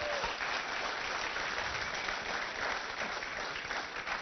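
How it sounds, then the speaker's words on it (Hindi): An audience at a running race event applauds, a dense steady wash of clapping that stays even throughout, heard from a distance and somewhat muffled. "ये हुई ना बात, क्या तालियां जोरदार।"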